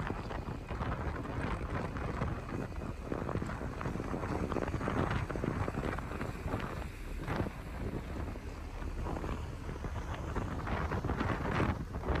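Strong, steady wind roars across the microphone with broadband buffeting and gusts, over a constant rush of churning water on rough seas aboard a Pacific tuna fishing boat after a typhoon, no voices.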